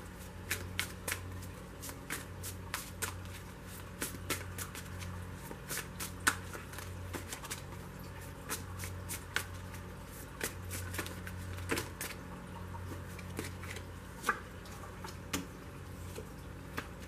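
Tarot cards are shuffled close up, with a steady run of crisp, quick riffling snaps and soft slaps repeating throughout against a quiet background, with no talk.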